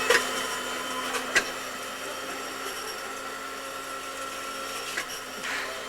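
A blender motor running steadily with strawberries dropped in through the lid opening, a constant whirring drone with a few sharp knocks and clatters.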